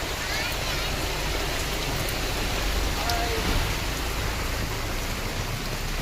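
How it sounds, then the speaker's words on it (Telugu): Floodwater rushes down a colony street during rain, a steady broadband roar of flowing water and falling rain that stays even and continuous throughout, close and fairly loud. "చూడుర్రి ఎంత వరద పోతుందంటే అంత వరద పోతుంది."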